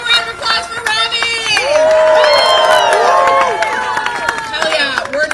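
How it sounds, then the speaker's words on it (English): Crowd cheering and whooping at a Starbucks workers' strike rally on a picket line, many overlapping raised voices and shouts with some clapping, loud and close. "one more round of applause for Rami!"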